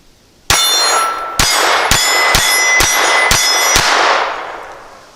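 A Ruger LCP II .22 pistol fires Federal Match ammunition in six loud, sharp reports at uneven intervals over about three seconds, each crack ringing with a metallic tail before the sound fades out.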